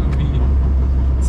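A worn, high-mileage Honda Civic H22 coupe rattles and roars while driving, a steady loud engine and road rumble filling the cabin, with a voice speaking over it.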